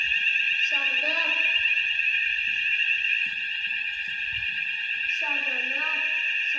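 A fire alarm sounder at a community centre rings steadily and loudly during testing, a continuous high electronic tone, while people talk over it in short bursts.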